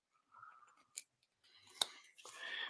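A carving knife slicing through wood while hand carving a Halloween skull, with quiet scraping strokes, one sharp crisp snap in the middle and a louder rasping cut at the end.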